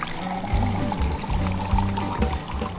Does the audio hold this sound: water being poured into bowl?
yes